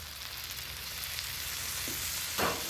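Chicken caprese sandwich pressed panini-style on a griddle, giving a steady close sizzle and frying hiss throughout, with a brief louder crackle near the end.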